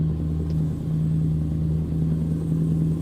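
Scania V8 8x4 truck engine in American Truck Simulator, hauling a heavy load, giving a steady low droning rumble with a constant hum, close and continuous throughout without talk.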